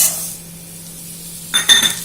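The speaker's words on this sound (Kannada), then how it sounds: "ಇದೇ ಪಾತ್ರೆಗೆ ನಾನು ತಗೊಂಡಿರೋ ಶಾವಿಗೆ ಹಾಕೊಳ್ತಿದ್ದೀನಿ" Dry vermicelli tipped into the same pan used for roasting raisins for shavige payasa: a quiet hiss, then a short burst of rustling and clattering as the strands drop in near the end.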